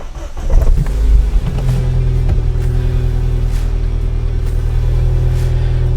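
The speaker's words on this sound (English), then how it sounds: "Fire up the car" A Ford Fiesta ST fires up close by with a brief loud burst, then settles into a steady, deep, rumbling idle that holds evenly to the end.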